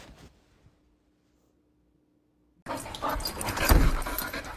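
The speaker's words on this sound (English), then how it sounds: "Dog." A dog pants and fusses close up, with brief rustling at the start, a long quiet gap, then a burst of loud breathy panting and jangling movement.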